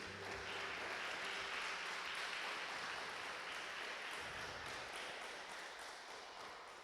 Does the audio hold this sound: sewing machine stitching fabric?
no